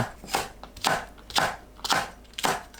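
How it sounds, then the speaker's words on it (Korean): A knife slices green onion diagonally into large pieces on a cutting board, five crisp, evenly spaced chops in quick succession, close and clear with nothing else heard. "파는 큼직하게 어슷 썰어주세요"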